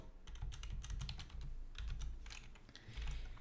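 Quick typing of a new password on a computer keyboard, dense clusters of crisp key taps over a low steady room hum, no voices.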